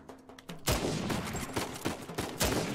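Pistol gunfire in Uncharted 4: A Thief's End, a quick burst of several sharp shots in fast succession, loud and close, with game sound between the reports.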